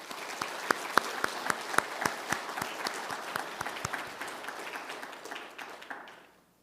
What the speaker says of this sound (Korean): 하나님께 영광의 박수 함께 올리시면 좋을 것 같습니다